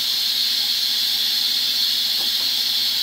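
Steam hisses steadily out of an Instant Pot's pressure release valve, a loud, close, continuous high-pitched rush that holds unbroken throughout, with no talking.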